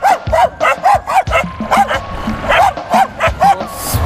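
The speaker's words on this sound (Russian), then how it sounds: "В Николаеве очень много бездомных собак." Stray dogs on a street in Mykolaiv, Ukraine, bark and yip in quick repeated bursts, loud and close, about a dozen sharp barks in steady succession.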